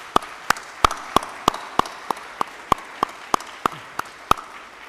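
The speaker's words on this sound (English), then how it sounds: "Please join me in a round of applause for everyone that makes this incredible ceremony happen." At a military ceremony, about fifteen sharp, evenly spaced claps ring out in a steady slow rhythm, distinct and fairly close against a quiet background rather than a full crowd.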